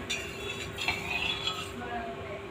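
Sugar syrup stirred in a pan for motichoor laddoo, a spoon scraping and clinking steadily against the metal over a low background hum, close and moderately loud, with no talking.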